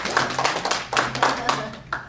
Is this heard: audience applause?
yes